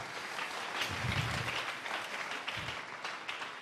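A church congregation applauds loudly and steadily, a dense wash of clapping filling the room for several seconds with a few voices mixed in.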